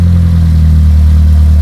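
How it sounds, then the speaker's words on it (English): Petrol engine exhaust of a Reliant Regal Supervan converted back from electric, running on choke with carburettor settings being adjusted, giving a steady close-up low rumbling idle with no talk. "I like the way that exhaust sounds"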